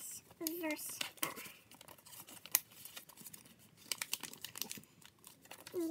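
Paper being folded and creased into a paper airplane, with crinkling rustles and sharp crisp snaps up close, a brief voice fragment early on.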